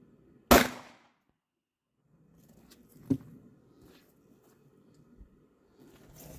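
A Glock 36 pistol fires a single sharp, loud shot into ballistic gel, followed by quiet shuffling and faint handling noises.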